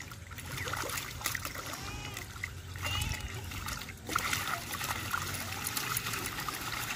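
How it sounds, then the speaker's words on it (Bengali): Khoira fish being rinsed by hand in clear water at a pond ghat, with repeated soft splashes and trickling drips and low voices in the background. "খেজুর গাছের পরে এসে পরিষ্কার জলে ধুয়ে নিয়ে যাবে"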